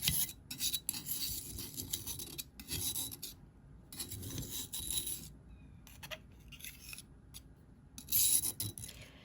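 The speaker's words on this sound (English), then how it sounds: "I will scrape it and start putting it in the container" Ground dry natural pigment paint for egg tempera scraped with a tool and moved into a container, giving repeated raspy scraping strokes in short bursts with brief pauses between them, close and moderately loud with no talking.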